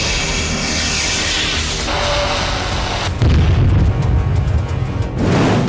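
Heavy booms and rumbling blasts from suicide drone strikes erupt in succession, loud and roaring, with a sustained thunderous burst near the end.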